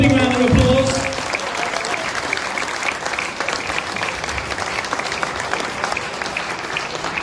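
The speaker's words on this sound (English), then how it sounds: "Give a big round of applause." An audience at an evening event with a Liverpool football legend breaks into a round of applause, a dense, steady wash of clapping that swells at first and then holds evenly, with a brief voice near the start.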